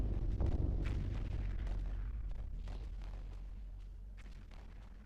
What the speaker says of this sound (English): I can hear gunfire and bombs.